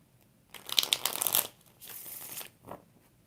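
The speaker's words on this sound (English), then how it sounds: "Let's get another deck. 4 shuffles for Shimmy Cocoa Puff." A tarot card deck is shuffled in two quick riffling bursts followed by a short tap, close and fairly quiet with no talking.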